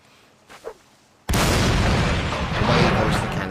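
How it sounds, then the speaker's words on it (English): A cannon fires in a Mount & Blade North & South mod line battle: a couple of faint pops, then a sudden loud, sustained boom that rolls on as dense rumble for a couple of seconds. "Away goes the cannon."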